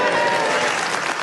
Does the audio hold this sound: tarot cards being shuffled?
no